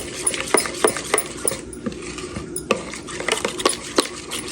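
Chicken drumsticks are mixed with salt in a bowl, giving irregular wet squelches and clinks of a spoon against the dish, close and fairly loud, with a short quieter gap midway.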